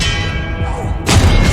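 Expelliarmus disarming spell cast in Hogwarts Legacy, heard as a sudden bright magical burst that cuts in partway through over a steady rumbling game-music and effects bed, loud and close.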